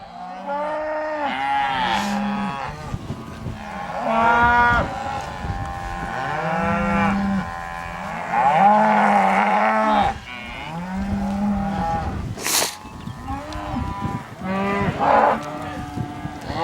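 Nervous calves missing their mothers moo repeatedly, loud overlapping calls from several animals close by, rising and falling bawls coming in frequent bursts across the stretch.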